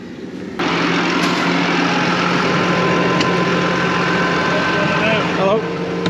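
A farm tractor in a large Cheshire field during first-cut silage, arriving with a full load: a steady, loud engine drone with low rumble that holds throughout, with people talking faintly over it.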